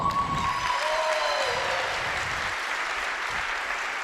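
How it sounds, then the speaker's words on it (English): Conference audience applauding the Concordia University Chicago president, a brief burst of clapping that holds fairly even for a few seconds with a voice faintly audible near the start. "give him a big round of applause"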